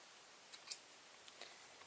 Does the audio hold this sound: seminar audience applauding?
no